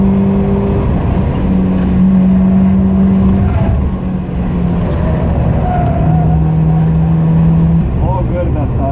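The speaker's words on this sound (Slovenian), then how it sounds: "Vlažen Nordschleife, pa avto, ki je mečken zmahan." A car drives fast on the wet Nordschleife track. The engine hum is loud and steady, with its pitch rising and falling as the car shifts and accelerates, and someone talks over it throughout.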